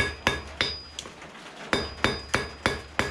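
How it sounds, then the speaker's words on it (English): Hammer blows truing a hand-forged steel wall hook after it comes out of the jig, seven sharp metallic strikes at a steady, slightly uneven pace, close and loud with ringing decay. "give it a little love with the hammer"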